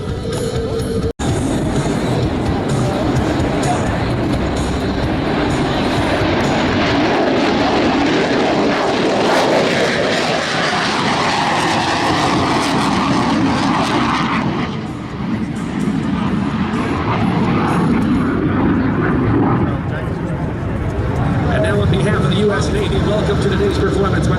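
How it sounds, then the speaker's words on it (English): An F-35 fighter jet at a Tennessee air show roars overhead as a loud, sustained jet rumble and whoosh with shifting pitch across the whole stretch, while an announcer talks over the public address. "warfighter aircraft, the F-35"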